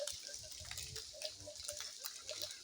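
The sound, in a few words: water flowing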